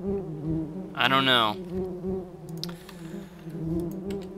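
Bees buzzing in a modded Minecraft game: a sharp, wavering insect buzz swells for about half a second over a steady droning hum, with a brief spoken remark in the clip.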